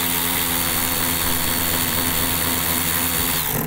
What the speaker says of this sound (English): I'm cheating, I'm using an electric ratchet.